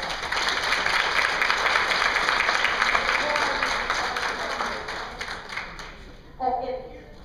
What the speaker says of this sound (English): let's have a round of applause for the Warren County Republican Women's Club